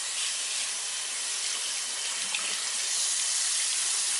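Water runs steadily from a tap in a loud, unbroken hiss that holds even for several seconds, with no talking over it.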